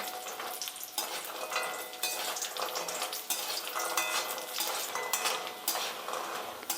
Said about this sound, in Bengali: ভেজে নেব বড়িগুলো একটু লাল লাল করে আমি ভেজে নিচ্ছি